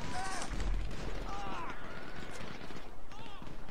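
NPC gunfire during a pedestrian riot in GTA 5, several sharp shots cracking in quick succession amid noisy game ambience and faint voices.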